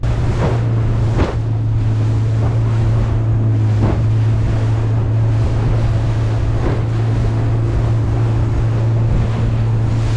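Wind and whitecap waves hit a small boat on the Ord River, with a continuous loud roar of wind buffeting the microphone, periodic slapping wave impacts against the hull, and a steady low engine drone underneath.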